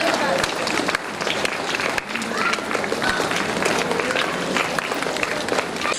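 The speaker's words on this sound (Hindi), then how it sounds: "पहले तालियां बजाते" Audience applause at a birthday cake-cutting ceremony for Prem Rawat ji Maharaj at the Hardoi centre, steady dense clapping filling the room throughout with crowd noise and voices mixed in.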